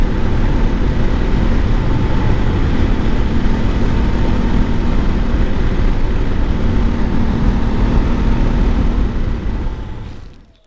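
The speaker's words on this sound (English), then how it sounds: "Now I'm riding the motorcycle" Motorcycle ride heard from the rider's position, a loud, unbroken roar of engine and wind rush that holds steady for about ten seconds before cutting off abruptly.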